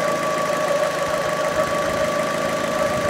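A Fiat 500 engine runs steadily close by, giving a continuous, even mechanical hum with a faint knocking rattle throughout.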